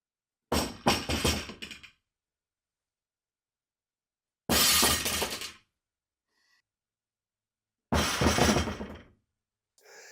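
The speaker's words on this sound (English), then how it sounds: "taking an unloaded bar and dropping it and seeing what kind of sound it makes" An unloaded Rogue Ohio Power Bar barbell dropped on the floor three times, each impact a loud metallic clang and rattle that rings briefly and dies away, separated by silence.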